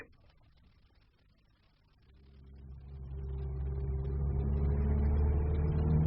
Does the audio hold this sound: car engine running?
yes